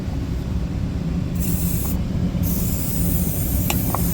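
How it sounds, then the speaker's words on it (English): An air bomb car sanitizer sprays inside a Ford Fiesta sealed with windows and doors shut, giving a steady loud hiss that surges in two brighter bursts, with faint clicks near the end. "Just going to put this air bomb in, car sanitizer"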